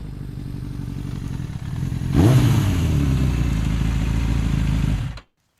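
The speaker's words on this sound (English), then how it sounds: "Roxanne pulled into the parking area of Complex D.U.R.E. and kicked down the motorcycle stand, turned on the kill switch" A motorcycle pulls into a parking area, engine idling low, then revving and rumbling louder for a few seconds before cutting off abruptly into silence.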